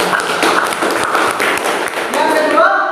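Classroom students clapping hands together, a dense burst of applause lasting a few seconds, fairly close and loud, with voices mixed in toward the end.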